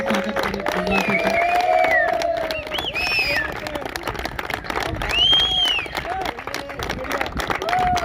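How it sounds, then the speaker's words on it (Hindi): An outdoor audience claps at a friendly blind cricket match in Punjab. The scattered applause and crowd noise run under loud, overlapping speech and shouting. "जोरदार तालियों से स्वागत करें पंजाब सरकार।"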